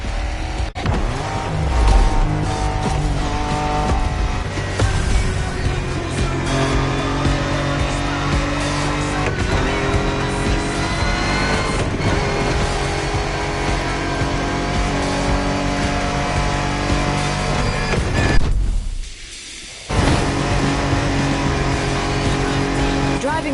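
Off-road race car in The Crew Motorfest, engine roaring and revving continuously with tire squeals and skids, loud and close, with a short drop in sound near the end and a voice talking over it.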